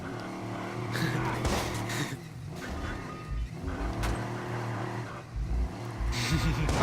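Cars rev and skid in a Watch Dogs online race, with engine roars, squealing tires and a few sharp impacts, loud and busy throughout.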